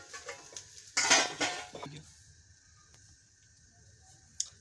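Metal clinks and scrapes against a pot as kadhi pakora curry is ladled out, a brief burst of clattering and a soft squish, then near silence with one faint clink.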